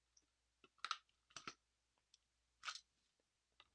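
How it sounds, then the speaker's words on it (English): Small plastic clicks as a Mandalorian-style lightsaber prop blade seats into its hilt, a few sharp, quiet snaps spaced irregularly in an otherwise hushed room. "if you listen closely, you can hear the little clicking sound."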